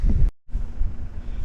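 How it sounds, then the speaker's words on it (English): Heavy wind buffeting the microphone from inside a parked ute, a loud low rumble that cuts out briefly near the start, then returns just as strong. "the wind is blowing like a bastard"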